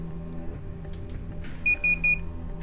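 DJI digital FPV drone air unit beeping while ready to bind, three short high-pitched electronic beeps in quick succession over a low background hum.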